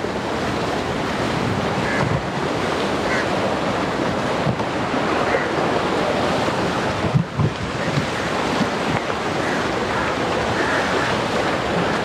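Ocean surf on the coast at Galle, Sri Lanka, a continuous roar of breaking waves with heavy wind buffeting the microphone.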